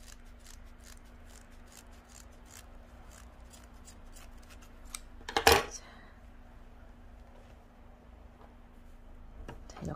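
Scissors snip through macrame cord while a plant hanger is being made: one crisp, close cut stands out in a quiet room, with faint rustling and small ticks before and after.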